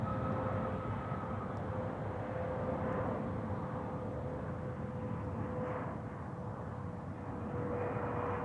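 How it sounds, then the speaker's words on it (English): An Etihad Cargo Boeing 777 freighter arriving from Abu Dhabi at Amsterdam Schiphol in the evening, its engines a steady, broad jet roar with a sustained whine, holding fairly constant throughout. "Etihad cargo, arriving from Abu Dhabi. 6 hours, 28 minutes on the way. 777 freighter"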